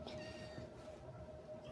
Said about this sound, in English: my cat is meowing at me now